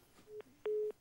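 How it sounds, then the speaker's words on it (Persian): A telephone disconnect tone on a caller's line during a live call-in broadcast: short beeps at one pitch, followed by a longer steady tone, moderately loud over a quiet background. "متاسفانه هلیا با تلویزیون گوش میکرد، تلفنش هم قطع شد"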